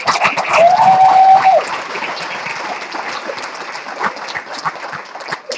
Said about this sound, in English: Ladies and gentlemen, please applaud for Mr. Timmy Ingram.